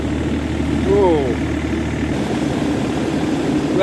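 A tractor engine runs steadily with its PTO engaged while foliar spraying a jackfruit orchard, a continuous loud low drone throughout with a brief tonal whine partway through.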